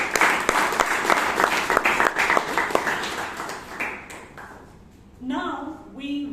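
Audience at a Toastmasters meeting in Bangalore applauds with a burst of dense clapping that gradually thins and fades, followed by a speaker's voice.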